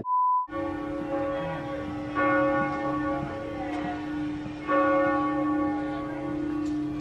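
Church bells toll in Amsterdam around noon, a sustained, resonant peal with repeated strikes every couple of seconds, loud and ringing alone without talk.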